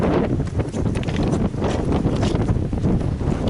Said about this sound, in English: The wind's picking up a little bit